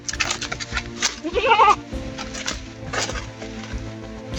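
A goat bleats once, a short wavering cry in the middle, amid background clatter and noise.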